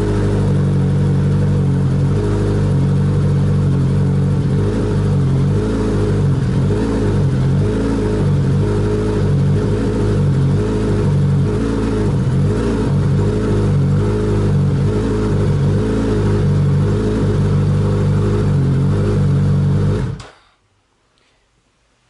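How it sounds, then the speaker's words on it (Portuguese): A Suzuki GSX-S1000 motorcycle with a full aftermarket exhaust idles loudly and close up, its low throb wavering unevenly for about twenty seconds before the engine cuts off into silence. "A lenta da moto fica irregular."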